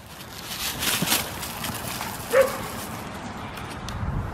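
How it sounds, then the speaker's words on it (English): A dog gives a short, sharp bark midway through an outdoor walk over faint background noise; a person's voice is briefly present. "Is this what you're barking at?"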